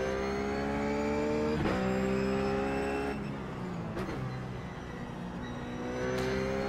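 A Ruf race car in the iRacing video game laps Zandvoort, its engine droning steadily with rising and falling revs through gear changes, close and continuous with no talk.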